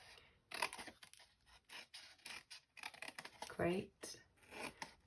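Scissors snip through paper card while the lid of a gift box is cut, irregular close crisp cuts and rustles in short bursts between bits of quiet talk.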